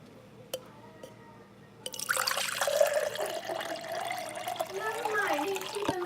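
Hot water poured into cups, starting abruptly after a quiet opening and running as a steady close splashing fill with shifting gurgles, loud over low background.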